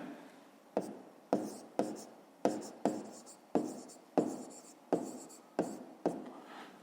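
Pen writing on paper while working a fifth-grade maths exercise: about a dozen quick, scratchy strokes in a steady rhythm, close and fairly quiet, with no voice.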